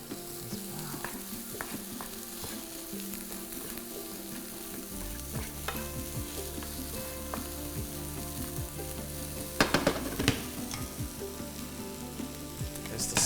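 Sunflower mince fries in a hot pan with a steady sizzle while a utensil stirs and scrapes through it, with a few louder clattering knocks partway through and no talking.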